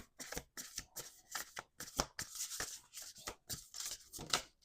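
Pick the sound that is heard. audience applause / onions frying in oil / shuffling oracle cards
shuffling oracle cards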